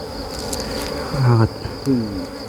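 Asian cavity-nesting honeybees buzzing near and steadily, with louder individual bees droning past in short swells over a constant hum.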